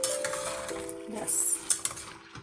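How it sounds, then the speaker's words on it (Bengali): Bottle gourd shukto cooked with milk is stirred in a pan, with soft scraping and a few light utensil clinks against the pan, close and moderately quiet. "একটু নাড়াচাড়া করে দিচ্ছি।"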